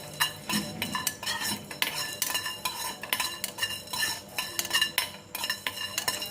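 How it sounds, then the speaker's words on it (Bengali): Whole spices clatter as they are dry roasted in a pan for a wedding-style mutton curry: a piece of cinnamon, four cardamoms, four cloves and fifteen to twenty peppercorns. Quick, bright rattling strikes and scrapes repeat close up throughout, with no talk. "এখানে এক টুকরো দালচিনি নিয়েছি, 4টে এলাচ, 4টে লবঙ্গ আর 15-20টার মতন গোলমরিচ নিয়ে নিচ্ছি। ওকে একটু ভেজে নিচ্ছি।"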